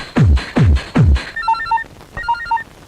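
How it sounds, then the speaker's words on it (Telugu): An old-style telephone bell rings in three loud, rapid bursts, followed by a softer electronic ringing tone repeating twice; no one speaks. "ఆనంద్, నీకే ఫోన్."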